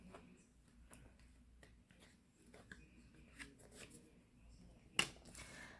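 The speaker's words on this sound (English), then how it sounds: "shuffle up the cards" A tarot card deck being shuffled, giving soft papery riffles and light taps scattered through the clip, with one sharper snap near the end, all fairly quiet.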